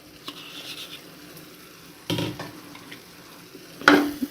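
Masala mushroom curry with coriander being stirred in a pan on the stove, soft sizzling and a few scraping stirs and clinks of a spoon against the pan, fairly quiet with no talking.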